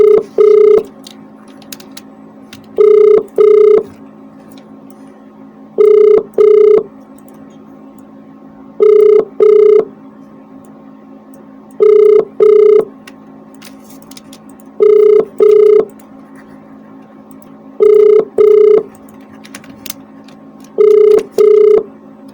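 Telephone ringback tone on an unanswered call, paired double rings repeating about every three seconds, loud and clear with nothing else between them.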